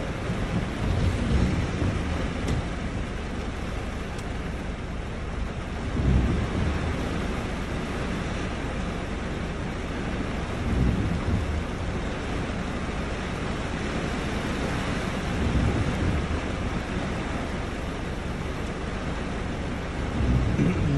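Heavy rain pours in a dense, continuous roar, probably heard from inside a car in congested traffic, with low rolling swells of thunder rising at intervals beneath the downpour, and no talking.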